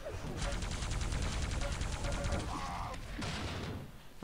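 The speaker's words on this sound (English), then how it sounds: "Very nice shots there by Genan" Rapid weapon fire in a Quake arena match, a dense run of repeated shots over a continuous game-sound bed, with brief pauses and a second burst near the end.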